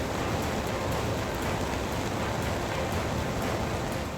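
Heavy rain pours steadily over roads in Uttarakhand. It makes a dense, even, close hiss with no breaks and no voices.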